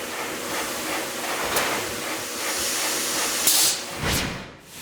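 A shin press machine hisses steadily as it squashes the knuckle of a metal eyeglass frame flat, with a continuous train-like rush, a few brief sharper bursts and no voices.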